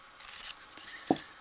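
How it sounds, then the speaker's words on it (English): Small fussy cutting scissors trim card paper in a quick, quiet snip with a brief rub, alone in a hushed room. "Oh, I picked up my fussy cutting scissors."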